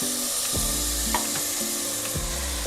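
Greens for a village-style thick-stalk sambar sizzle loudly in a hot pan, a steady crackling fry broken by a few stirring scrapes, with no talk.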